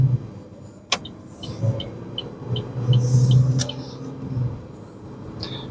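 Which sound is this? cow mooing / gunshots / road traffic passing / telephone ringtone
road traffic passing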